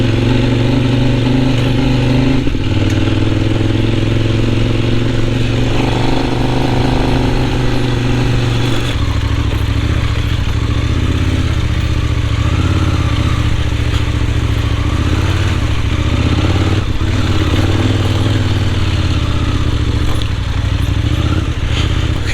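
A Kove 800X Pro motorcycle engine riding off-road in Tibetan Sichuan, a loud, steady droning rumble throughout with shifts in pitch as the throttle changes, plus clattering from the rough road.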